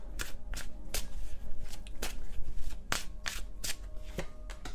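Tarot cards are shuffled close up in quick riffling bursts, a crisp irregular patter of snaps and flutters with no talking.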